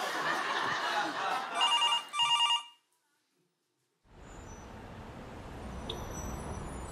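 A telephone rings with a short electronic trill over a noisy room of chatter, then cuts to silence before background noise resumes.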